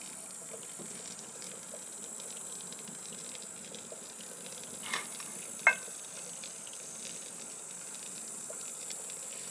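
Boiling water pours from a samovar for tea, a soft steady trickle and hiss in the background with two brief clinks partway through.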